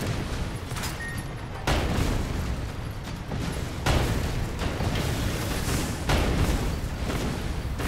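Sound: rockets exploding in the video game Sand Land

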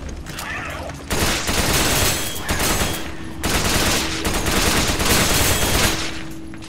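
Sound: gunfire at a boss in the video game Resident Evil 5

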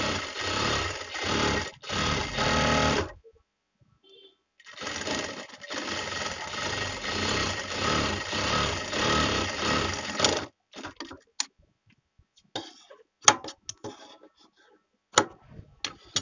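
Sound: sewing machine stitching a bra-cut blouse

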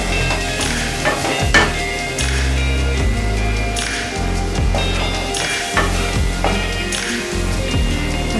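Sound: potatoes frying and being stirred in a pan

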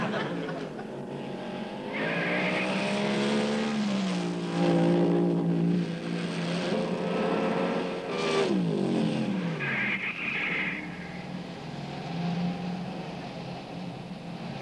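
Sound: car racing to get into a garage

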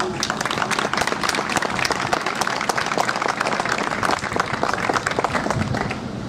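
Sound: march crowd round of applause

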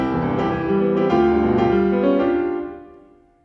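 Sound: piano playing Beethoven Sonata Op. 111, third variation

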